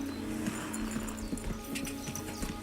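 A video game horse clip-clops in a steady, close hoofbeat rhythm with a soft neigh-like tone underneath, moderately loud and heard on its own without talk.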